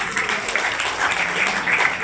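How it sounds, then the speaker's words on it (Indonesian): An audience at a school outreach session applauds steadily, a dense, even wash of clapping that runs loud and unbroken throughout. "Tepukan untuk Pak Muammar ya."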